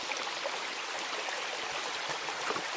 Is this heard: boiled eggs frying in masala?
no